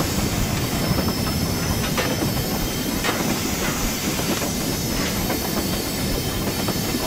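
A Peppercorn K1 locomotive runs on the West Highland Line in the Train Simulator 2016 video game, with a continuous rolling rumble, faint rhythmic wheel clatter and hiss.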